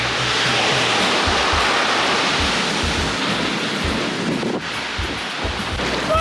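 Loud, continuous surf breaks on a Sea of Cortez beach at Cabo San Lucas, a close, dense wash of rushing water with some wind buffeting the microphone and no voices.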